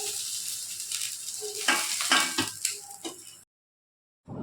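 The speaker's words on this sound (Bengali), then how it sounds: "এই মাছটাকে খুব একটা কড়া করে ভাজবো না, কারণ ছেলেটা আমার খাবে তো, তাই অল্প ভেজে নিয়েই উঠিয়ে নেব।" Salted, turmeric-coated morola fish fries in hot oil with a steady close hiss, broken by a few metal utensil clicks, then a sudden brief silence before the sizzle resumes.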